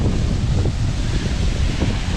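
Shoshone Falls in Twin Falls, Idaho, on a cold day gives a constant, dense, roaring wash of falling water, with rough wind buffeting throughout.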